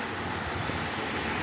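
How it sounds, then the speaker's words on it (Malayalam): A loud electric fan in a room, turned up to a high speed, gives a steady, dense whooshing roar that fills the whole clip without pause. "ഭയങ്കര ശബ്ദമാണ് ഫാന്."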